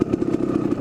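A Kawasaki KDX250 two-stroke dirt bike engine runs close by in first gear, a rapid, even, pulsing buzz with a slight rattle over the brief moment.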